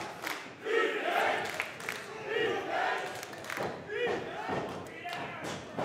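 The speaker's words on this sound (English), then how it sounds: "This crowd coming alive for Halal Beefcake now" A wrestling crowd comes alive at a match, swelling shouts and cheers with thuds from the ring, loud and surging in waves, mixed with a commentator's voice.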